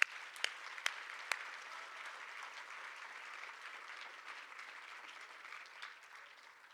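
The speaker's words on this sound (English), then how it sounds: "Can we give them one more round of applause?" An audience gives a round of applause at a civic event, steady clapping that starts with a few sharp louder claps and then holds an even, moderately distant patter until the end.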